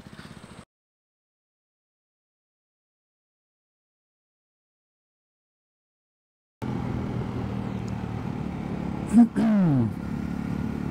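A Jawa or Royal Enfield motorcycle engine running during a ride, heard after a long silence as a steady mid-pitched hum with a short sharp rise and a pass of rising and falling tone, no talk over it.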